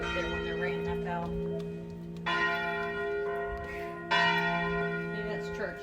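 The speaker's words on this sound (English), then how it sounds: "See, nobody will be up there when they're ringing that bell." A church bell rings in Rovinj, Croatia, each strike sounding strong and sustained with long ringing overtones, with fresh loud strokes landing at roughly two-second intervals over a faint background of voices.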